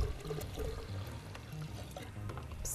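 Milk poured from a litre container, a soft steady gurgling pour, close but fairly quiet, with no talk.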